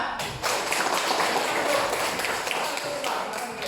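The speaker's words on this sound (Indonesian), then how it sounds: "tepuk tangan dulu semuanya" A school class claps hands together in a dense, continuous patter that fills the room evenly at moderate level, with a little talk mixed in.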